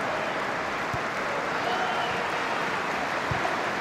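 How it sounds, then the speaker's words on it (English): Steady stadium applause from Rangers supporters during a Scottish Cup match against Motherwell, a dense continuous wash of clapping with a couple of faint thuds, and no clear talk. "Rangers fans applauding in the 14th minute for one of their own"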